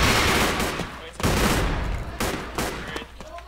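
Gunfire in the shooter game Assault Fire comes in loud, dense bursts broken by short pauses, sustained rapid shots that sound close at hand, with some game sound underneath.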